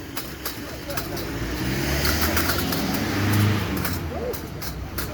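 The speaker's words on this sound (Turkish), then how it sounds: "Araba kayıyor." A car engine revving while the vehicle slides, a rising and falling motor drone with road noise building mid-clip, heard under ongoing talk.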